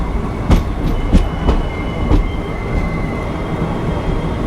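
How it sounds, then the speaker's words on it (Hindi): Jammu Tawi–Jodhpur express train rolling through a narrow lane between houses in Rajasthan, a loud steady rumble with rhythmic clickety-clack wheel beats and faint squeals, close by. "ऐसे गली से होकर ट्रेन जाती है"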